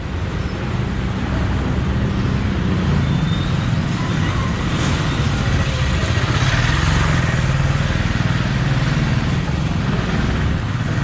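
Motorbike passing close in busy street traffic in Jaipur, India, its engine droning amid a steady roar of cars and other vehicles, loud and continuous with no speech.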